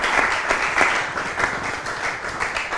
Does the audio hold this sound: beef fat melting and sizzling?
no